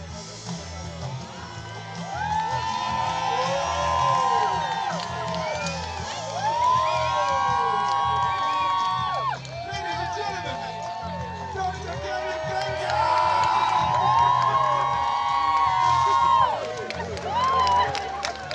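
Large festival crowd in Malawi cheering and shouting in repeated swelling waves, loud and continuous, with voices calling out over a steady background din.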